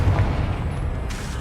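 A Confringo explosive spell from Hogwarts Legacy lands as a deep, heavy boom. A rumbling low tail follows in the game's noisy soundscape.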